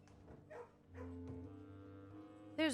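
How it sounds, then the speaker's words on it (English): A dog in a kennel in the video game Blue Prince gives a few soft yips and whimpering barks, ending with a brief louder yelp, all faint and close. "There's a dog in here."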